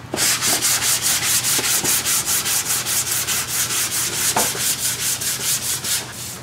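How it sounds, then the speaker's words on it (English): Hand sanding over guide coat on primer on a Toyota MR2 body, a close, loud, steady rhythm of rasping back-and-forth strokes, about three or four per second, with no talking. "use the guide coat as a guide to sand out the sand scratches"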